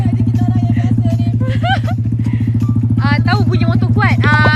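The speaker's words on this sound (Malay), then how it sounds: "Tahu bunyi motor kuat?" A motorcycle engine idles loudly and close by in a steady, throbbing putter that runs the whole way through while people talk over it.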